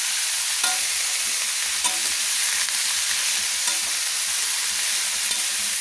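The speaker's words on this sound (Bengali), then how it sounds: "এবার আমি ভালো করে কিন্তু নেড়ে নেব।" Cabbage stirred and fried with spices in a pan for a Bengali niramish bandhakopi ghonto, a steady close sizzle with a few scraping stirs of the spoon, no voices.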